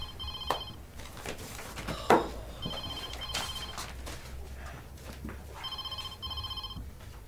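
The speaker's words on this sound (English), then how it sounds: "Phone's ringing, Karen." A telephone rings in repeated electronic bursts, with a few knocks and clicks in the room between the rings.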